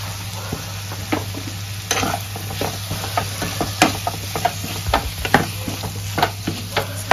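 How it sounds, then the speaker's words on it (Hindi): Spiced vegetables for poha are stirred and tossed in a pan, with a steady sizzle under a low hum and frequent spoon scrapes and taps against the metal, close and irregular, no one talking. "इसका थोड़ा सा हम हिला लेंगे ताकि नमक इसमें अच्छे से मिल जाए"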